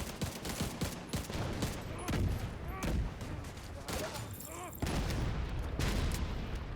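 Dense bursts of gunfire and popping fireworks crackle around a control point in the shooter game Division 2, rapid overlapping shots filling the whole stretch at steady loudness.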